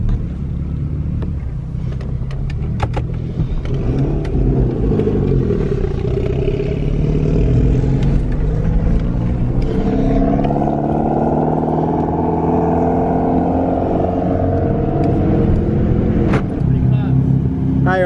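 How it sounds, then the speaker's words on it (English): A Mitsubishi Evo X races alongside another Evo on the road home, its engine droning loudly and rising in pitch as it accelerates, with steady road and wind rumble throughout and occasional voices over it. "On the way home, I run into another Evo and we race."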